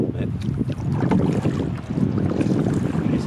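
Boat launched from a lake shore and paddled on Detroit Lake, Oregon: steady water washing and splashing close by with wind buffeting the microphone throughout, no talk.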